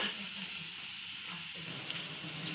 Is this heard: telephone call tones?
no